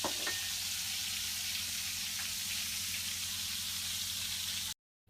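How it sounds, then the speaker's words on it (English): Food frying in hot oil for a Mediterranean fish dish gives a steady, even sizzle with fine crackling, close and fairly quiet throughout, cutting off abruptly at the end. "These have been frying away for a couple of minutes in hot oil."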